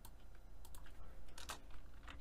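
A computer keyboard being typed on during coding, a quick run of soft close keystrokes over a faint steady background hiss.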